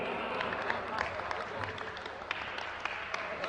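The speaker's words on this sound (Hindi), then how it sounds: "इतनी तालियां तो आनंद दे देगी मुझे" An audience at a comic Hindi poetry gathering in Jaipur applauds, a dense continuous clapping with a few sharper individual claps poking out, while a voice murmurs faintly underneath.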